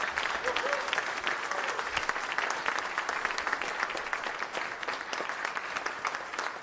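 A theatre audience claps back at the bowing cast: sustained, dense applause from many hands, even and fairly loud throughout, with a faint voice briefly audible underneath.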